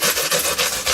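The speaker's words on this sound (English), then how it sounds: "This is a pruning saw blade." A sharp pruning saw blade cuts through foam in quick, raspy back-and-forth strokes, about five close, even, steady strokes in a single second.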